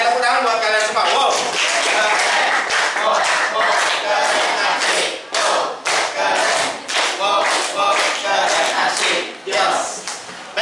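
Classroom students clap together during a math lesson, a dense burst of hand claps mixed with excited shouts and chatter, fairly loud and sustained throughout.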